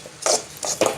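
Okra (ladies finger) pieces being stirred in a dry pan over the stove, giving three short scraping, clattering strokes of utensil against metal with quiet pauses between.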